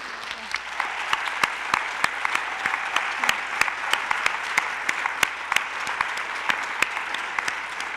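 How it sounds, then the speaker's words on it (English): An audience applauds steadily, a dense spread of many hands clapping at moderate distance, continuous and even throughout with no voices on top. "Let's give them all a round of applause"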